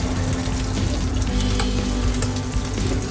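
Garlic frying in butter in a pan over low heat makes a steady, even sizzle that carries on close and continuous.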